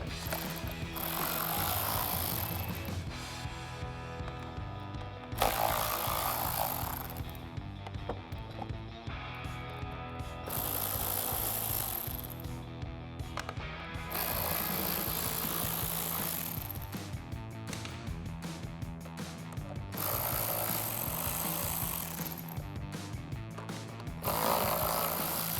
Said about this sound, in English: we're gonna grab our ratchet and socket, take those out.